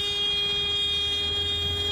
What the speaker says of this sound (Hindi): हॉर्न क्यों बजाते जा रही हो?